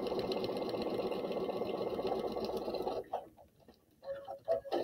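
A sewing machine stitches a paper-pieced teacup quilt block, a fast steady run of rhythmic mechanical ticking for about three seconds, then stopping and giving way to a few short bursts of stitching.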